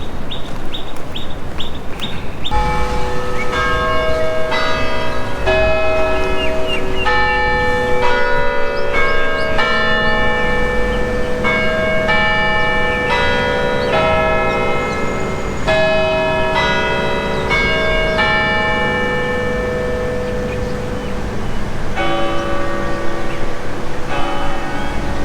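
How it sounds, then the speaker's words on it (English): A tower bell at the Victoria Theatre in Singapore rings a long melodic chime sequence of clear repeated tones, moderately loud, with birds chirping and city ambience beneath. "you can hear the bell up in the bell tower."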